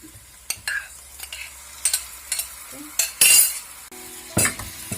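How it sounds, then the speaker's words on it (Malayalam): Mutton liver is dropped into a hot pan and fried, giving a soft sizzle broken by sharp, intermittent stirring scrapes and utensil clinks close by, with no talking. "ഇനി നമുക്ക് ഇതിലേക്ക് ലിവർ ഇടാൻ പോവാണ് കേട്ടോ"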